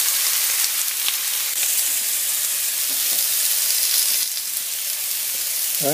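Zucchini and other vegetables for ratatouille fry in a pan, giving a loud, dense, steady sizzle heard close up, with a few faint stirring clicks and no talking.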